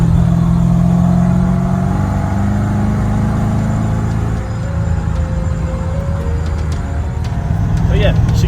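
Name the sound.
supercharged 5.0 Fox-Body Ford Mustang engine revving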